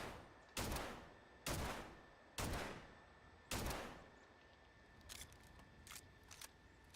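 Gunfire in the video game Starfield: four loud, evenly spaced single shots, each ringing out briefly, followed by a few softer, fainter shots near the end, with no talking.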